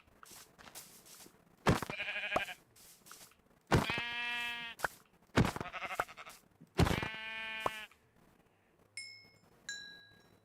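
Sheep bleat in Minecraft Bedrock's hardcore mode, four loud, wavering calls spaced a second or two apart, with a couple of faint chiming pings near the end.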